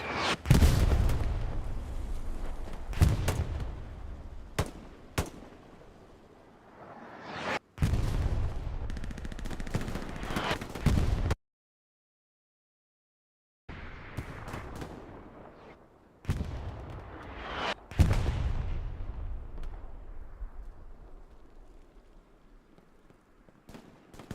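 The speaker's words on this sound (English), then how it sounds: "Artillery falling super close." Artillery shells land close by in the WWII shooter Hell Let Loose, a series of heavy booming impacts with long rumbling decays, one brief silent gap, then more blasts fading out.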